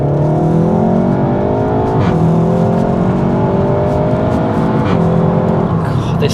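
A SEAT Leon Cupra 300 with a DSG gearbox accelerates hard in Cupra mode using manual shifts. The engine note climbs steadily through several rising sweeps, broken by quick gear changes, loud and close from inside the car.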